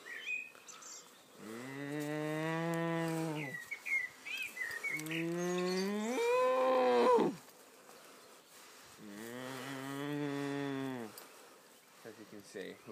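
A person's voice imitates a cow's moo to call cattle, three long drawn-out lowing calls with pauses between, loud and close.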